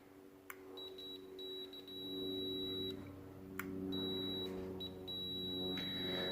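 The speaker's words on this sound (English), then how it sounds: "As you guys can hear that beep" An intermittent electronic beep from a faulty switch in the rewired wiring of a Buick Skylark lowrider, a thin steady tone that cuts in and out in uneven bursts over a low hum.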